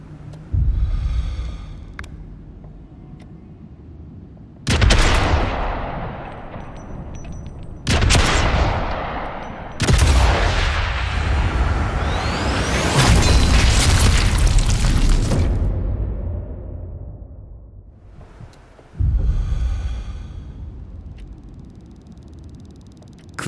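Sniper rifle shots and a huge fuel pump explosion in the video game Sniper Elite 5: several sharp booming blasts with long rolling decays, one sustained thundering fireball roar in the middle, loud and with no speech.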